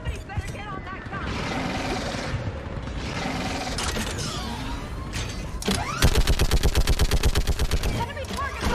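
Mounted gun firing in Mass Effect 3, a rapid, loud, evenly spaced burst of heavy shots in the final seconds, preceded by chaotic battle noise, scattered gunfire and voices.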